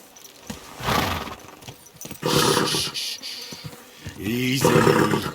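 A horse in the medieval game Kingdom Come Deliverance 2 gives a few loud, breathy snorts and whinnying bursts in separate clusters, spaced across a few seconds with quiet gaps between.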